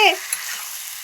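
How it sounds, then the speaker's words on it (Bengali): Food fries in a pan with a steady, close hiss of sizzling oil that holds evenly throughout, and a brief clatter at the very start. "তো তোমরা তো পুরো দেখতেই পাচ্ছ সামনেই তোমাদের রান্না করছি"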